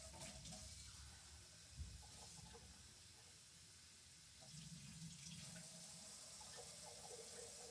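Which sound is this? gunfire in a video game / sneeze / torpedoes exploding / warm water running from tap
warm water running from tap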